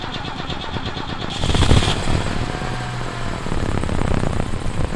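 A cold BMW six-cylinder engine cranks and catches, then settles into a steady, rumbling idle up close, loud and continuous for several seconds.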